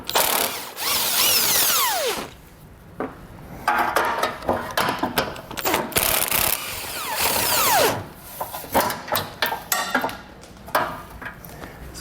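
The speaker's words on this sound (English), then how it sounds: "So you can take a 14mm socket and get them all removed." A power tool with a 14mm socket spins off bumper bolts on a 2017 Subaru Crosstrek in repeated close bursts of whirring and ratcheting, with short clattering pauses between them.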